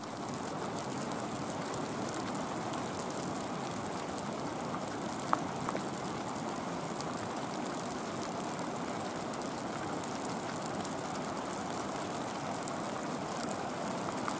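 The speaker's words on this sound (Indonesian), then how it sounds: "Curug ini berada di Dinding Ari Gunung Galunggung." Curug Cibanjaran waterfall on the wall of Mount Galunggung, swollen after rain, a steady broadband rushing roar throughout with no voices.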